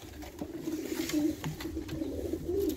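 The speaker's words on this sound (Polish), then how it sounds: "O, mój gołąb." Pigeons in a loft, including young birds and yearling racers, coo in low, repeated phrases close by, with soft rustling and faint taps between calls.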